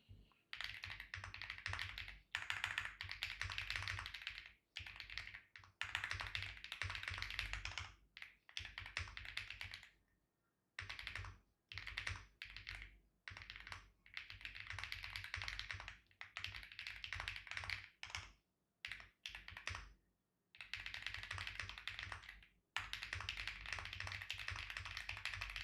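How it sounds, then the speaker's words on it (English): Fast, continuous typing on a computer keyboard, close and crisp, runs in long bursts of rapid key clicks broken by brief pauses. "I'm typing up like something real quick."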